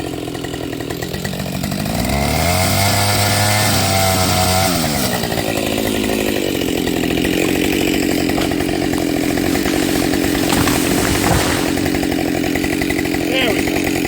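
A Husqvarna 572 chainsaw cuts through the hinge wood of a felled tree, its engine rising to a loud, steady high-revving whine that holds and then drops back to a rougher idle-like drone, close to the listener.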